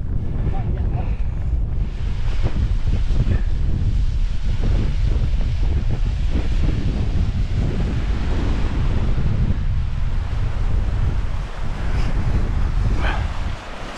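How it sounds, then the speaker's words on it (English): Strong wind roars across an exposed hillside in the Cheviots, buffeting the microphone in a loud, continuous rumble with gusty surges throughout. "Still windy, like."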